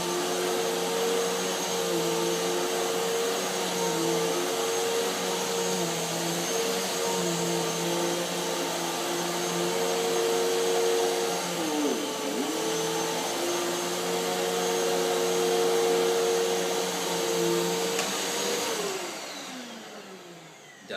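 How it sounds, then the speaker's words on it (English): Hoover Windtunnel T-Series upright vacuum running steadily over low pile carpet while picking up baking soda, a loud constant whine and motor drone with a brief pitch dip midway, then winding down as it switches off near the end. "let's go over it a couple more times with the vacuum and see if we can pick up any more of the baking soda."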